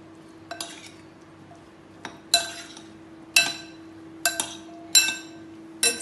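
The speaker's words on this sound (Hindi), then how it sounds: "इसमें अब मैं हरी धनिए की चटनी, इसे भी डाल देते हैं। इसे डालने के बाद अच्छी तरह मिक्स" A spoon clinks against a bowl while green coriander chutney is mixed into a bread chaat mixture, with about seven sharp, bright metallic taps spaced irregularly over a quiet steady hum.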